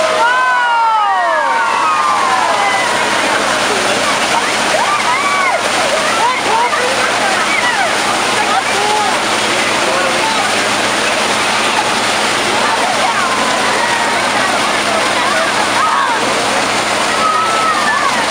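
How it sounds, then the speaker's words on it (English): Water pouring from a volunteer fire truck's hose into a portable drop tank during a demonstration, a loud, steady rushing splash like a waterfall that continues without a break. "he's going to fill this drop tank up with all of his water"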